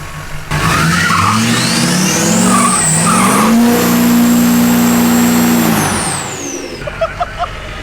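A Duramax-swapped K20 truck does a burnout, its diesel engine roaring loud and close while the tires squeal in a long rising screech for several seconds before easing off.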